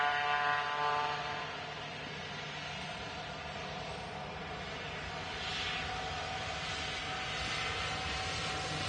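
A jet airliner rotating on takeoff close by at a busy airfield, a steady broad engine roar with tonal whine held throughout at moderate level, swelling slightly toward the end.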